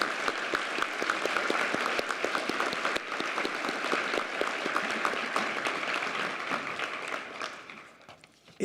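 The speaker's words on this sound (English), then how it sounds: "Let's just take a moment and give them a big round of applause for what a great accomplishment." An audience at a University of Kentucky College of Medicine press conference gives a sustained round of applause, dense and steady for several seconds, then thinning and fading out near the end.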